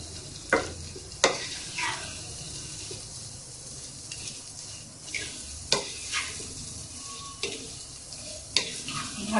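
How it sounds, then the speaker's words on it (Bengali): Raw mango pickle mixture with garlic sautéed in a pan, a soft sizzle punctuated by repeated sharp clinks and scrapes of a spoon stirring at irregular intervals. "ভালো করে এটাকে কষাতে হবে।"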